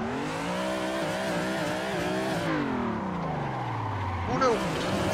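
A car drifting in Assetto Corsa holds a steady engine drone that climbs, then sags as revs fall, ending with a quick sharp rise, while a voice talks over it.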